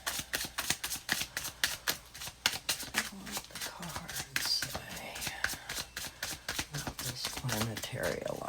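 Tarot cards are shuffled close by in quick, crisp riffling bursts that repeat rhythmically, while a voice speaks softly over part of the handling.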